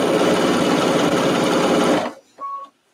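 Sewing machine stitching binding onto a quilt, a loud close continuous whirring hum that stops abruptly after two seconds, followed by a short mechanical whir and a faint tone.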